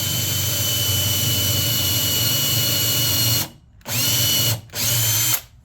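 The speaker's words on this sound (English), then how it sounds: "And then I drill down in here, and that'll put that hole exactly where you want it." A power drill whines steadily and close while boring holes in a 1930s end table, then stops briefly and starts again twice in short bursts.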